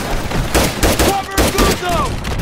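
A machine gun in Call of Duty 3 fires loud, rapid bursts in a chaotic battle, with whistling and other combat noise between the volleys.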